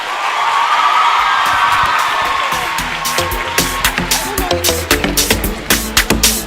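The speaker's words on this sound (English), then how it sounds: "a round of applause for your teachers, please" An audience in a hall at a university student recruitment event in Polokwane cheers, then breaks into scattered claps that build into steady applause, loud and close.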